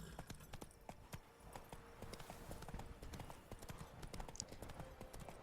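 Horse hooves clip-clop steadily on a path in Witcher 3, a brisk even trot with sharp close hoof strikes over faint game ambience.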